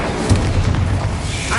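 Incendio fire spell cast in the Hogwarts Legacy video game, a loud deep whooshing boom of flame swelling and fading over a rumbling low roar.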